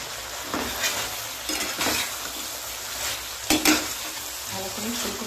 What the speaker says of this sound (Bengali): এবার আমি ভেজে রাখা ফুলকপি এর মধ্যে ঢেলে দেব।